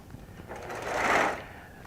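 Serger sewing machine stitching a quilt seam, a brief whirring run that swells to a peak near the middle and then winds down, heard alone with a faint room background.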